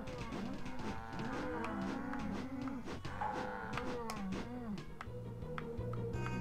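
Cows in the video game South Park for the N64 moo over and over, many overlapping bellows forming a continuous, fairly quiet bovine chorus with scattered clicks.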